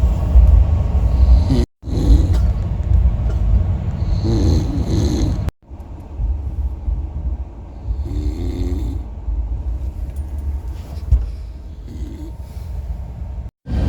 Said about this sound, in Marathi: गाईज आता वाजले 3 आणि अजून हा माणूस घोरतोय